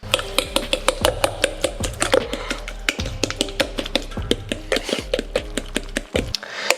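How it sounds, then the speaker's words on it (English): A fork repeatedly clinks and scrapes against a bowl in a steady rhythm, mashing hard-boiled egg yolk filling for deviled eggs, close and fairly loud, with soft mashing underneath. "I'm just gonna take it and mash it up with my fork"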